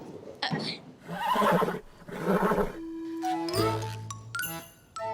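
A horse in a stable neighs and whinnies in bursts, mixed with talking voices and a bright jingling, tinkling sound toward the end.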